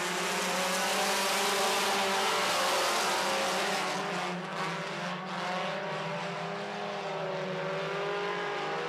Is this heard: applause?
no